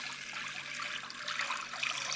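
Two cups of water poured into a hot cooking pan, a faint steady rush and trickle of liquid lasting a couple of seconds, with no voices.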